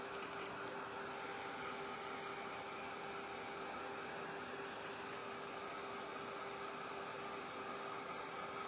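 A hair dryer runs steadily for the whole stretch, blowing air over a craft project with a loud, even whooshing roar and a constant motor whine, and no one speaks.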